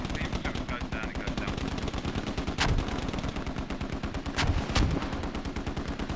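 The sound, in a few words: mortar barrage in a video game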